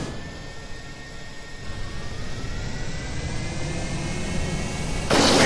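Jet engine radial boosters on a rocket in Kerbal Space Program spool up into a steady rising roar with a thin high whine, growing louder toward the end until a sudden bright blast of noise.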